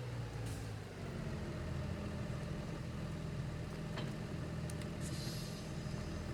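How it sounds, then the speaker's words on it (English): A large tractor engine in Farming Simulator 22 rumbles steadily at idle, deep and continuous throughout, with a brief faint word spoken near the start. "We needed a bigger tractor, and here it is."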